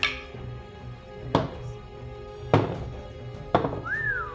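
Dice clatter onto a table during a Power Rangers tabletop role-playing game, landing in three or four distinct sharp knocks about a second apart, with a brief whistle-like tone near the end.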